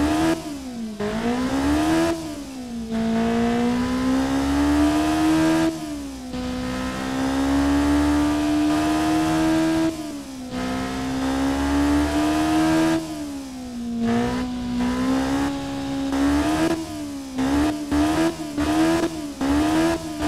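An inline-four racing engine in the game Automation, built to rev to 10,000 RPM, with the intake noise loudest and the exhaust almost silent. It drones loud and steady through long rising and falling revs, then gives several quick shifts near the end.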